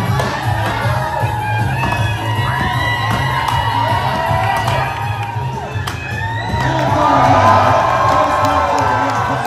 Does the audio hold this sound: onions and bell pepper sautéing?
no